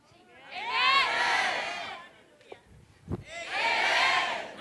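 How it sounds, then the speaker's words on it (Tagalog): A church congregation shouts a loud collective amen in two big swelling bursts of crowd voices, with a brief quieter gap of scattered sounds between them. "Can I hear a loud amen from the crowd?"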